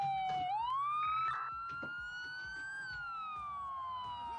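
Police sirens wailing in a sheriff's patrol video game, a rising and falling electronic tone that is steady and moderately loud, with no talk over it.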